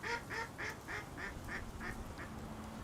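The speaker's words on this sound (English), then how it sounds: "The ducks are present and vocal." Ducks quack at Schiphol Airport in a steady series of about nine evenly spaced, fairly loud calls over a constant low rumble, with no talking.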